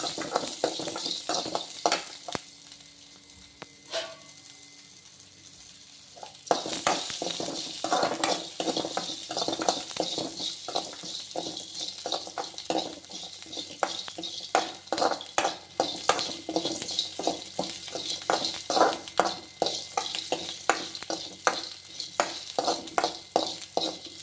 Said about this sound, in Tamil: கறிவேப்பிலை, நல்லா வதக்கி எடுத்து வச்சுக்கலாம்.